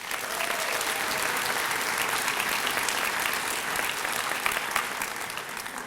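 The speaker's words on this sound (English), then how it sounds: "We applaud Dylan for his successes and wish him the best." Steady, dense applause fills a graduation ceremony audience for a graduating student of the Ruby Van Meter class of 2013, holding at an even level throughout without any voices over it.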